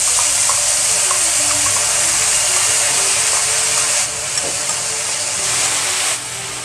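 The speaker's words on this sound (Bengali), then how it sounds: "এবার ফোড়নে আমি দিয়ে দিচ্ছি ফোড়নের উপর এই যে বেটে রাখা সব মশলা" Ground spice paste hits hot oil in a pan already tempered with cardamom, cloves and cinnamon for chana paneer masala, giving a steady, loud, close sizzling hiss that runs unbroken throughout with no voices.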